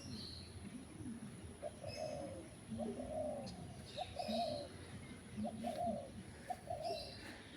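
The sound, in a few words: spotted dove cooing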